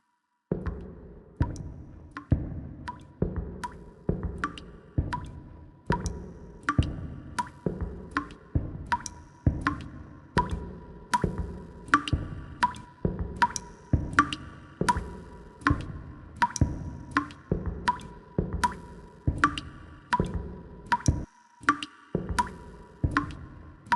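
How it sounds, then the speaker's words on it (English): Regular water drips from a leaking pipe in a video game fall one after another, each a sharp plink with a short echo, steady rhythm over a quiet hum. "There's a pipe that's always leaking right above it."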